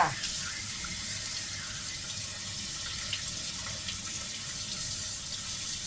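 Fresh mackerel is rinsed under a running kitchen tap, a steady, close rush of water splashing into a sink with slight shifts as the fish is handled.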